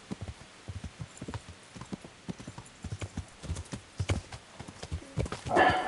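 Horse hooves clip-clopping in a quick, uneven rhythm in Kingdom Come: Deliverance, getting louder toward the end where the horse whinnies briefly.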